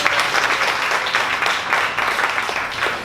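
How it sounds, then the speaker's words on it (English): Dense, steady applause from an audience at a 1 Million Cups Dallas startup meeting, loud and close, sustained for about three seconds with no voices. "give a round of applause to the Deck"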